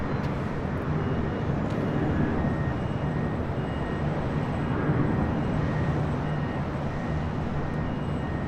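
Heavy airliners arriving at Los Angeles International Airport produce a steady, broad jet roar that holds loud and unbroken throughout, with no talk.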